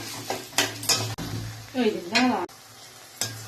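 Chopped tomatoes and green chillies cook in a pan with a soft sizzle under several sharp utensil clinks and scrapes, while someone talks intermittently.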